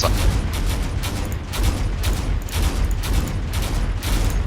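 A rust sprayer weapon fires in Space Engineers, delivering a rapid, repeated volley of booming bursts in rhythmic pulses over a heavy low rumble.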